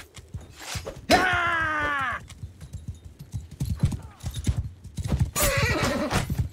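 A horse in the Mount and Blade Bannerlord video game lets out a loud, descending whinny, then hooves clop amid combat noise, with someone talking briefly over it.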